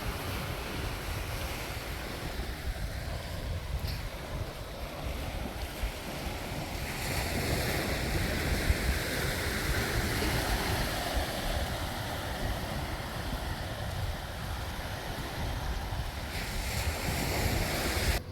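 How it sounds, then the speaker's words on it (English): Surf washing onto a coastal beach under steady wind, with continuous wave wash and a buffeting wind rumble that swells slightly midway, no voices present. "So this is the beach right here."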